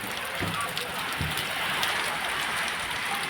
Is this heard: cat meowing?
no